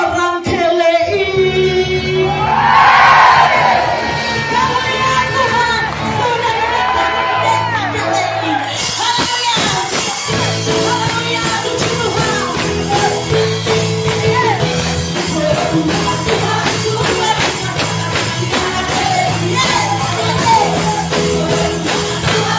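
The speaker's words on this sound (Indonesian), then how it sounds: "Dari bawah dengan teriakan hei saudara." A church congregation in Kelei, Tentena, Central Sulawesi, shouts loudly together during worship, with a swelling crowd roar at first that gives way to continuous loud music and voices.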